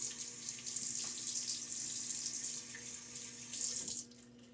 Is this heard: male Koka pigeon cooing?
no